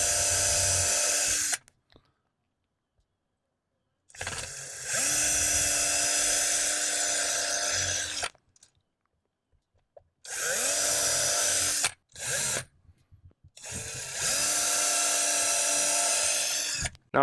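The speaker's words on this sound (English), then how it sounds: "Now I'm going to drill these. I have a 5/64 drill bit." A power drill with a 5/64 drill bit bores holes while mounting an Amcrest 1080P video doorbell camera, running in four close, loud bursts of steady whine separated by pauses, with no talking.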